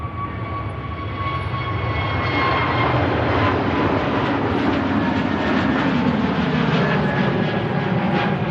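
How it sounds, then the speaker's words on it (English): EasyJet airliner climbing out after takeoff from Manchester Airport, a loud, steady broadband jet roar with a slowly shifting whine that stays strong and continuous throughout. "Positive climb, and the gear goes up on the EasyJet."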